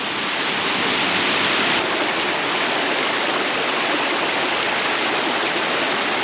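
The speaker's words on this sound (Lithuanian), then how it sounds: "Krioklys." A waterfall on Koh Chang island roars in a dense, constant rush of falling water, close and loud, with no break or change throughout.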